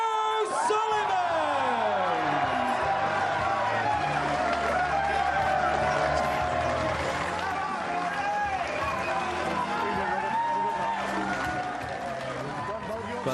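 Lively snooker crowd at an evening match greeting Ronnie O'Sullivan's introduction with sustained loud cheering, whoops and applause, a dense roar lasting throughout with an announcer's voice carried over it.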